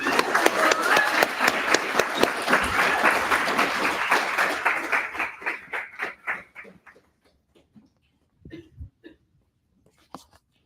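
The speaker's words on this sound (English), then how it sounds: "give a round of applause for our young people" An audience applauds a youth slam poetry team, with dense clapping for about five seconds that thins into a few scattered claps and fades to near silence.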